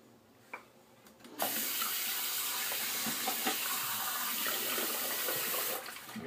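Tap water running into a bathroom sink while a face is wetted before shaving; a few faint clicks, then the faucet opens into a steady, close hiss that stops near the end.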